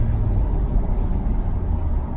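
A Nissan Skyline R34 GT-R V-Spec on the road, its engine giving a steady low rumble heard from inside the car, brief and fairly loud with no talking.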